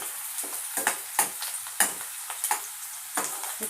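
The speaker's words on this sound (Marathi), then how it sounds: "छान आपल्याला लाल रंगावर परतून घ्यायचं आहे कांदा" Onion frying in a pan, a continuous sizzle punctuated by repeated sharp spatula stirs and scrapes, close and fairly loud.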